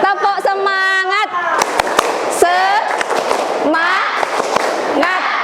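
Students in a classroom perform the tepuk semangat clapping chant: sharp, rhythmic bursts of group claps close by, alternating with loud chanted voices.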